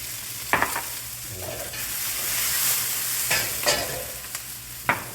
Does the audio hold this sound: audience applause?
no